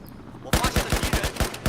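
Rapid bursts of SAR-21 rifle fire in Battlefield 4, a sudden string of about a dozen punchy, closely spaced shots after a brief quiet lead-in, loud and close.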